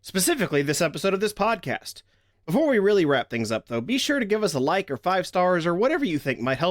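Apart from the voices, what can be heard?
No distinct noise like a dog, phone or traffic.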